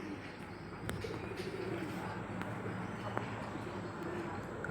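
Many farmed pigeons in a large coop beside a mosque coo in a dense, continuous murmur, with scattered wing flaps and soft knocks over a low steady hum.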